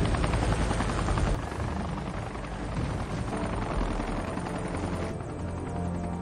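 A helicopter in the action film Hidden Strike thunders steadily and close, its rotor chop and turbine roar filling the whole stretch at a constant level.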